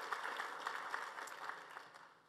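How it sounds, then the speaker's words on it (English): An audience claps in a keynote hall at a 2022 Toastmasters event, a steady wash of many hands under no speech, fading slightly toward the end. "Let's give them a round of applause."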